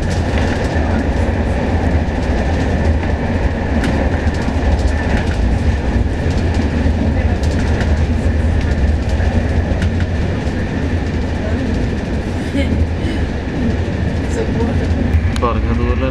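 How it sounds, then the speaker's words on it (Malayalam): A train running on rails near Cork, Ireland, a loud steady rumble with rhythmic clickety-clack and occasional squeal, continuous and close throughout. "നമ്മളിപ്പോൾ കാണുന്ന ഒരു ട്രെയിൻ കാഴ്ചയാണ്."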